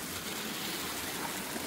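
Water pours steadily into the buckets of a slowly turning homemade waterwheel generator, a continuous close gushing and splashing stream with no talk.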